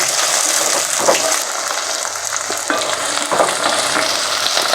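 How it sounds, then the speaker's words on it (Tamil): Small shallots and garlic sautéing in a pan for garlic kulambu, a loud continuous close sizzle with occasional scraping stirs and no talking. "சின்ன வெங்காயம் பூண்டு நல்லா வதங்கிட்டு இருக்கு"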